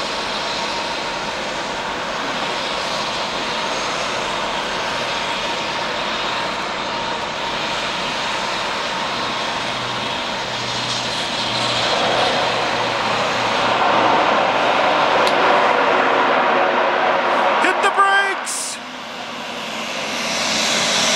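A steady, loud helicopter engine roar hums continuously from inside the cabin on a flight near Mt. Everest Base Camp, swelling slightly before a brief dip near the end.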